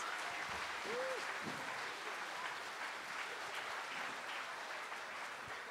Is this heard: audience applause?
yes